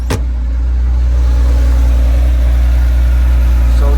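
A car engine cranks and catches with a brief starter burst, then settles into a loud, steady idle rumble that carries on close by for the rest of the moment, with no talking.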